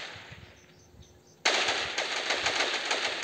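Rapid automatic gunfire in a shooting video game with a high-powered rifle bursts in suddenly after a quieter moment, then continues as a dense, loud, rattling stream of shots.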